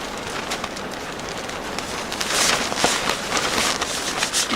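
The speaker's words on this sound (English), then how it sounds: "You hear the tent just moving around." Wind gusts buffet a camping tent, a broad rustling, flapping noise that builds and grows louder partway through, with no voices over it.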